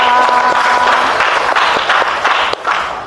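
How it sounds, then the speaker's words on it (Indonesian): A junior high school class in Indonesia breaks into applause, a loud, close burst of many hands clapping that thins slightly toward the end, with a faint tonal hum early on. "tepuk tangan untuk kita semua"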